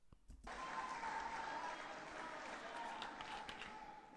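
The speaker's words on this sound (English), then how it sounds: "6 people clapping in the back." Clapping from people at the back of a room during a political speech starts abruptly after a short pause, then holds as a steady, fairly loud patter with a faint high tone running beneath it.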